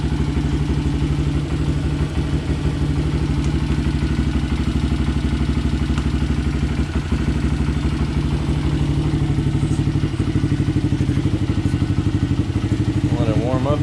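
A 2022 Honda Grom motorcycle idles while warming up, its single-cylinder engine putting out a steady, close, low-pitched chugging throb with light mechanical clatter, unchanged throughout.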